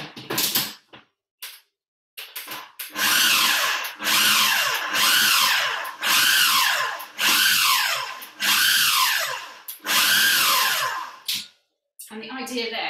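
A food processor pulses gluten-free pastry mix for Christmas baking in five or six loud whirring bursts, each a couple of seconds long, separated by brief pauses, with short bits of talk at the start and end.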